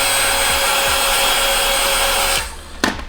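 A heat gun warming vinyl badge skin on a VW MK2 Tiguan blows with a steady loud whooshing hum, then cuts off abruptly, leaving quieter handling noises and a short knock near the end.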